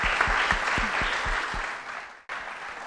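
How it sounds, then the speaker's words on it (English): Conference audience applauding after a chatbot design panel, a dense burst of clapping that runs steadily for about two seconds, breaks off abruptly, then picks up again briefly, with no talk over it. "Big round of applause for them."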